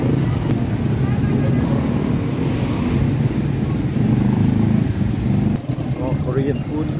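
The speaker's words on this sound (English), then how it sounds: "A lot of traffic." Street traffic rolls by on a Monday afternoon in Pampanga, Philippines, near a market and walking street. Cars and motorcycles rumble and whine close by in a constant loud stream, with people talking over the noise.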